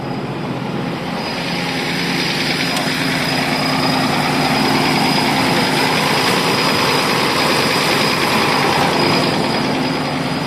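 A tractor engine runs steadily before pulling a PLN 5-35 plough out to a field, its loud continuous drone and hum holding level throughout with no talk.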